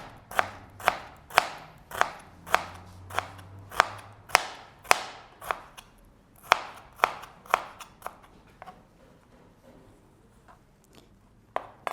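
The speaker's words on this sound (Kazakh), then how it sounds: "Сабанша туралған пиязымызды текшелеп тураймыз." Knife dicing sliced onion on a cutting board during a cooking lesson: a steady run of crisp, close chops about twice a second, fading to fainter, sparser taps near the end.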